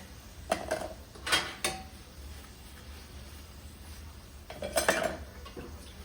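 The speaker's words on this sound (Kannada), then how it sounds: "ನಾನು ಪಾತ್ರೆ ಎಲ್ಲ ವಾಶ್ ಮಾಡ್ಕೊಬಿಡ್ತೀನಿ" Pots, plates and steel utensils clatter and clank in a few short bursts while being washed after breakfast in a home kitchen, with quiet pauses between and no talk.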